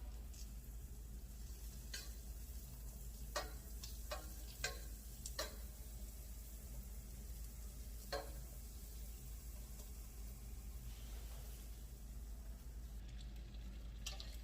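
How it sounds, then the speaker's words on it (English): A quarter tablespoon of butter melting in a pan for broccoli and cheddar soup, a soft steady sizzle running throughout with scattered small pops and crackles, close and fairly quiet, no talking. "I got about a fourth of a teaspoon, sorry, fourth of a tablespoon of butter. I'm gonna let that get melted down."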